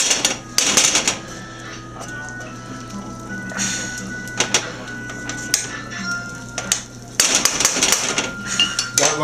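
Onions being stirred and scraped across the bottom of a hot pan while caramelizing, giving irregular clattering scrapes and knocks near at hand, loudest at the start and again toward the end, over a steady low hum.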